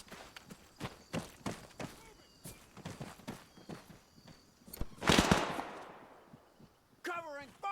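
Sporadic gunshots crack across a World War II battlefield in Arma 3's Spearhead 1944 mission, sharp isolated reports at irregular intervals, then a heavier burst, with shouted voices in the mix.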